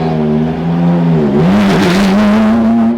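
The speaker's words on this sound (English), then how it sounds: "This is Fernando Alonso's F1 car?" A Formula 1 car engine revs loudly up close in a pit lane, its high whining pitch dipping and climbing again in a few quick blips.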